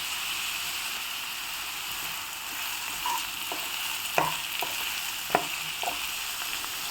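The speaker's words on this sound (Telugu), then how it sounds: "ఇలా సాల్ట్ యాడ్ చేస్తే ఆనియన్స్ తొందరగా ఫ్రై అవుతాయి." Chopped onions frying with salt in a pan over a medium flame, a steady close sizzle with a few sharp clicks and scrapes of stirring toward the end.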